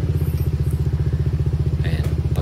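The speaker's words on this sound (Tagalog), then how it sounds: "Sa narrow band, i-start natin yung motor." A motorcycle engine fitted with wideband and narrowband air-fuel gauges runs with a steady, rapid low throb that pulses evenly throughout, loud and close, with a brief higher clatter near the end.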